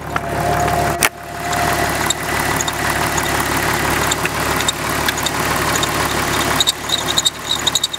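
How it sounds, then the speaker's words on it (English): A car engine idles steadily with a faint squeal from the power steering pump pulley, with a few sharp clicks and knocks over the running motor and no talk. "It's the power steering pump pulley."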